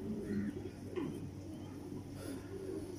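A Teddy pigeon gives soft, low cooing calls, a few rolling phrases spread across the moment, faint and close over a steady background hum.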